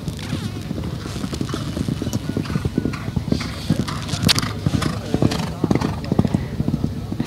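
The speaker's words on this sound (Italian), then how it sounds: "vediamo se gli altri finiscono il loro galoppo" Racehorses gallop on a racetrack at Mociano, their rapid hoofbeats thudding in a close, uneven clip-clop rhythm with voices talking over them.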